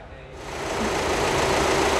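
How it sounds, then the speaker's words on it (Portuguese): Volkswagen Amarok 2.0 engine running, a close, steady mechanical clatter and hum that swells in the first second, then holds level, faint in the mix. "O motor da Amarok"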